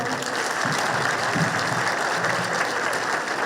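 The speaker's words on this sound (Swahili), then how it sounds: "Tuhurire mwana ucio makofi." A crowd claps loudly and steadily for a young girl at a political rally in Nakuru County, the applause dense and continuous throughout without a break.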